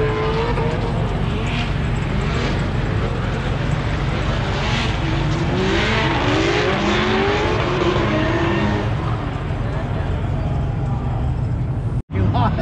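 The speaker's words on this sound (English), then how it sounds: "Carmen's in the car warming up" A drift car, a Jetta, warms up in the pits at Driftcon After Dark with a loud, close engine note rising and falling as it revs, a brief cutout near the end.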